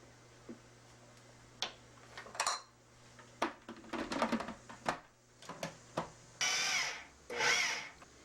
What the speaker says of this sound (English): pulse it so it's really well mixed, but it still has some texture to it